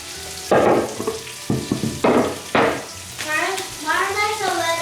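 Flour tortillas toasting in a hot pan, heard as several short, loud bursts of sizzling and scraping at uneven intervals, followed by a voice talking near the end.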